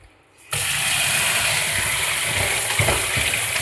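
Beef in a vessel is washed under running water, a steady loud splashing and gushing that starts abruptly after a brief quiet moment and continues with small knocks and sloshes throughout.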